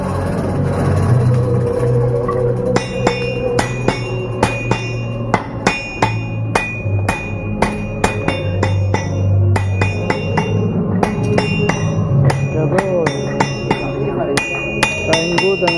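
A hammer strikes again and again in an uneven rhythm at a Christmas nativity display in Paceco in 2013. The sharp, close blows ring over a steady low hum, with faint voices at times.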